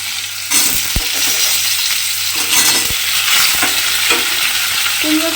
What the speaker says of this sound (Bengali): কুমড়োটা দিয়ে এবারে একটু আমি ভেজে নেব।